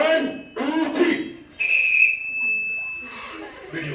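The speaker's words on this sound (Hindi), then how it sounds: "तुम 3 के बाद सीटी बजेगी" During a school competition, a single sustained shrill whistle blast sounds after people speak, with voices also heard after it.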